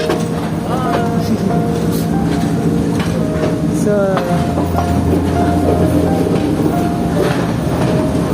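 Train running through a railway station near Colombo, a steady loud rumble with rhythmic clatter of wheels and a few squealing tones, voices faintly mixed in.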